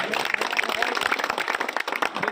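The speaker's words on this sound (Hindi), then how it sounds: "एक बार जोरदार तालियां" A crowd at a political gathering in Unnao, India claps in a quick burst of applause, dense and lively, for a couple of seconds.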